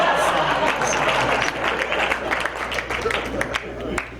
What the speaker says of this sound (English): Let's give Reverend Clark a round of applause